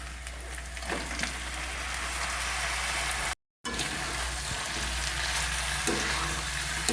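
Marinated chicken coated in spice masala frying in hot oil, a steady crackling sizzle with bubbling spatters that continues throughout, cut by a brief silent gap midway, then resuming just as busily.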